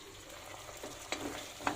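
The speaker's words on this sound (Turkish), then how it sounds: "Havuçların bir 3-4 dakika kadar kavrulmasını bekliyoruz." Soft sizzling and frying of carrots inside a covered pan, with a few faint clicks and scrapes now and then.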